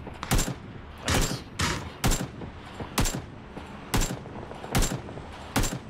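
Gunfire in the battle royale game PUBG, about eight sharp loud shots in a steady spaced rhythm, each a bright broadband crack, close by with no talking.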